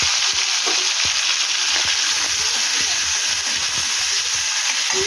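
Prawns fry in hot oil with halved green chillies in a pan, a loud steady sizzle with frequent crackles and pops that stays constant throughout.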